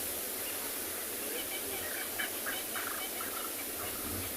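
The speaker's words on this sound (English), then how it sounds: "I don't know if you can hear the birds from the other side of the impala" Birds calling in short chirping bursts at a distance on a sunrise safari at Tswalu, partly buried under a steady wash of background noise, with some voices nearby.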